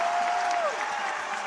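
A basketball crowd claps and cheers as spectators rise, a steady wash of applause filling the arena with a brief whistle-like tone early on, continuous and moderately loud.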